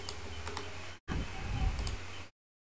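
A web address is typed on a computer keyboard: a few faint, sparse key clicks over a low hum, cut by a brief gap and then ending in silence, with no talking.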